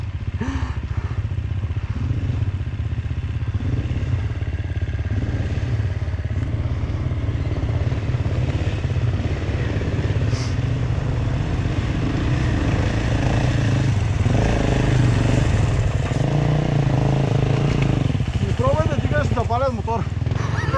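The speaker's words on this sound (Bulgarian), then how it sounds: "Запален мотор." Motorcycle engine running steadily during a night descent through Balkan mountain terrain from Buzludzha to Tryavna, a loud, close, continuous low rumble with rising revs and rattling, while people talk over it.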